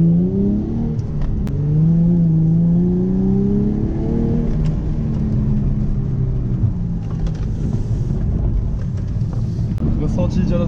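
A Nissan 350Z engine drones and revs from inside the cabin during a passenger lap at a Moroccan trackday, with rising and falling engine tones, steady wind rush and a voice talking over it.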